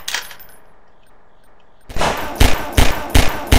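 Loud bursts of gunfire from the video game Garry's Mod, several sharp shots fired in a quick rhythm after a quiet opening.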